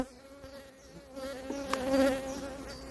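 Steady buzzing of honey bees hovering close by during hive inspection, the droning pitch wavering as they circle, growing louder for a moment before easing off.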